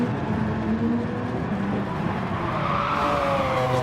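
A race car slides with tyres squealing under heavy understeer in a racing video game, a continuous loud engine drone with a rising screech of rubber across the clip.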